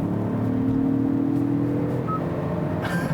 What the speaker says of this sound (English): This is with the car floored in third.